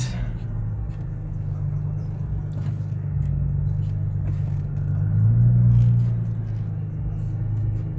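A video game car engine hums at a steady low pitch, swelling briefly as it revs partway through before settling back down.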